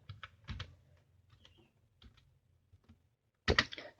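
Quiet, crisp keystrokes on a computer keyboard while an instruction is entered into Mitsubishi PLC programming software: a few scattered clicks and short clusters, then a louder burst of rapid taps near the end, with no voices.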